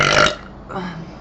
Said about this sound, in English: Okay, burps.